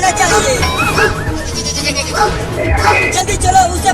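A cartoon goat kid bleats in several wavering, high cries over a busy background, interleaved with loud talking voices close by.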